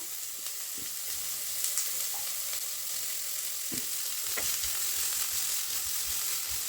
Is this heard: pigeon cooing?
no